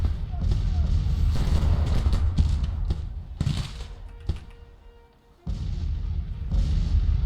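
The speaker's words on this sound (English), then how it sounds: "Appears that all the guns are up and firing." Artillery guns fire in the Civil War strategy game Grand Tactician, several loud booms and sharp cracks spread irregularly over a dense battle din that dips briefly before swelling again.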